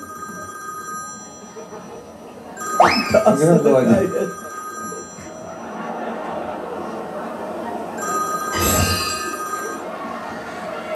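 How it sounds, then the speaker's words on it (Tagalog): A telephone ringing in a short burst, loud and near, with a second brief ring a few seconds later, while people talk over it. "nasa yung telepono."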